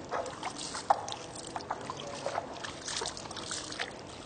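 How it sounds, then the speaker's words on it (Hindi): Water poured by hand over the feet during wudu ablution, a soft continuous trickle and splash with small drips, close and fairly quiet, without any talking. "आप पानी लें और इस तरह पानी डालते जाएं और खिलाल करते जाएं"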